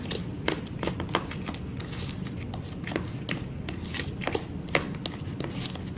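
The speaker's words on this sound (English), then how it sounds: "So get all those ingredients in and I will stir those all together." Dry cupcake ingredients being stirred together in a bowl, with a steady scraping shuffle broken by repeated sharp ticks of the utensil against the bowl.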